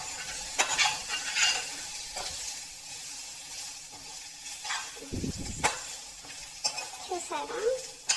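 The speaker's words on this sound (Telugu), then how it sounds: "సో అల్లం పేస్ట్ కూడా బాగా ఫ్రై అయ్యింది" Ginger paste frying with onions in a pan for bagara rice, giving a soft steady sizzle with a few scraping stirs and light utensil clinks; a brief low voice passes midway.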